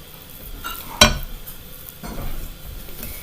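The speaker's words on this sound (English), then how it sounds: "And then continue stirring until it is all mixed in and forms a doughy texture." Stirring shortbread dry ingredients together with butter in a bowl: close, scraping and rustling strokes with a sharp clink of the utensil near one second, then softer continued stirring.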